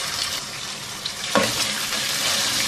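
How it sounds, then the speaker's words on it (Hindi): Chicken pieces sizzle steadily in hot oil with whole spices such as black cardamom, cinnamon, cloves and black peppercorns plus ginger-garlic paste, a continuous close frying hiss with a brief stir in the middle. "चिकन को 2-3 मिनट अच्छी तरह से फ्राई करेंगे।"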